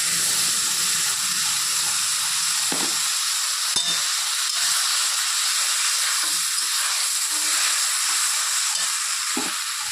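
Okra frying in a pan, a steady loud sizzle and hiss running throughout with faint stirring knocks and no talking.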